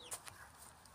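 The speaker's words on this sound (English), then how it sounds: "just let the other chickens out." A backyard chicken gives a couple of short, faint clucks over quiet ambient noise on a warm day in Melbourne, Australia.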